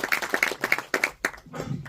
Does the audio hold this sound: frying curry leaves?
no